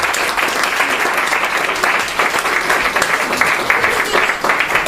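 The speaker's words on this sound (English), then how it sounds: "So a round of applause for the bridesmaid." Wedding guests at Bartle Hall give the bridesmaid a dense, sustained round of applause, many hands clapping continuously for several seconds with faint voices mixed in.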